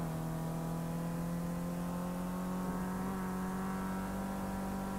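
A car engine in the racing video game Project Cars drones steadily at high revs for the whole stretch, a constant hum with no one talking over it.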